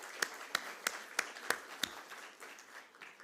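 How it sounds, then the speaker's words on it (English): Faint applause at a company stock listing ceremony for Jaro Institute of Technology Management & Research Limited: about six crisp, evenly spaced claps in a steady rhythm, then softer scattered clapping that fades. "So let me start with the applaud for all of you."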